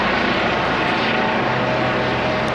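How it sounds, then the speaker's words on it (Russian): Loud, constant rotor and engine roar of an aircraft overhead, a dense unbroken drone with no breaks or voices. "Вертолет кружится"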